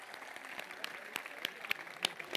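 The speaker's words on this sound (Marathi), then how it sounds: "तुमच्यासाठी टाळ्या वाजवा परत एकदा." An audience applauds after a djembe duet at a youth event, with scattered individual claps rising out of steady clapping, moderately close, and no talking.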